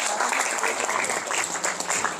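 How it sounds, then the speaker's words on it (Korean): Audience applause fills a hall at a 50th-anniversary ceremony as an association's chairman is introduced: dense, steady clapping from many hands, loud and continuous throughout with no talking over it. "박수로 맞으시면 고맙겠습니다."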